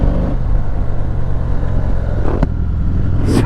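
A Harley-Davidson Softail Heritage Classic engine rumbles loud and close with a steady low throb, shifting near the end as the bike downshifts, with no talking.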